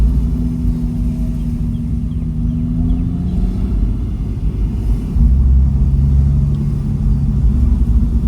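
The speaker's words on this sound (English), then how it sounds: "Porsches, they make so many noises." A Porsche engine hums steadily while driving, a low rumbling drone with a faint mid-pitched whine, loudness holding even and rising slightly toward the end.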